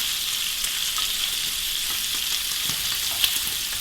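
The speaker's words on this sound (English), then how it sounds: "You need little bits of crispiness to let you know that the bacon is moving towards perfection." Bacon frying in a pan gives a steady, close hiss and crackle, with a few sharper pops standing out from the continuous sizzle and no voices.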